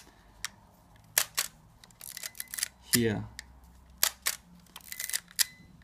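Mechanical clicks and ratchets from a Zenit-19 Soviet SLR film camera as the shutter is cocked and advanced, with a longer winding whirr midway, close and crisp among brief quiet talk.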